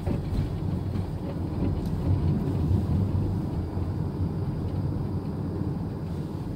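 A steady, heavy low rumble of southbound CSX freight train cars rolling past in Aberdeen, North Carolina, loud and continuous without a break.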